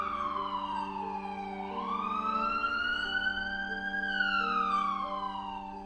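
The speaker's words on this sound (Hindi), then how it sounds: "पुलिस ने तुरंत ही एम्बुलेंस बुलवाकर सारिका को एक हॉस्पिटल में एडमिट करवा दिया।" A wailing emergency siren sweeps up and down steadily, loud and continuous, with no voices over it.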